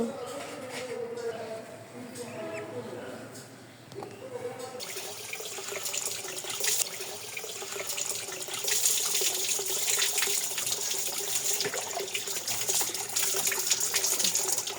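Very cold running water splashes steadily from a tap as someone washes their face in a Bangladeshi village, a broadband rush that grows louder in the second half, with faint voices early on.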